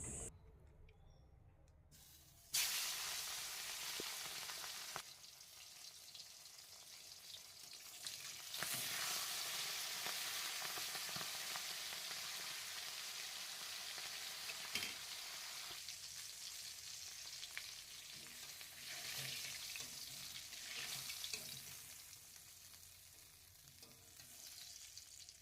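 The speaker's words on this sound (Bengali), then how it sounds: "প্রথমে আমি মাছটা তেলের মধ্যে দিয়ে ভেজে" Fish head frying in hot oil, with a steady loud sizzle and crackle that begins abruptly after a quiet moment and continues for the rest of the clip, with occasional louder spattering bursts.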